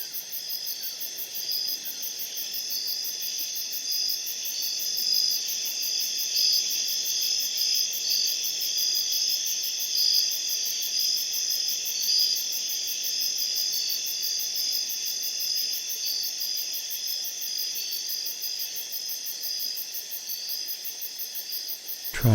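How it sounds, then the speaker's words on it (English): Crickets chirp steadily through a quiet night, a dense, continuous high-pitched trilling that stays even and fairly close from start to end with no other sounds. "Focus your ears and your mind to hear just the sound of crickets."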